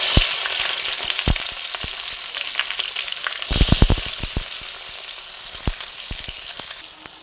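Chopped onion drops into hot oil with whole garam masala (two cardamom pods, two cinnamon sticks and a clove) for jackfruit kofta curry, giving a loud, steady sizzle with crackling bursts and sputters as it lands.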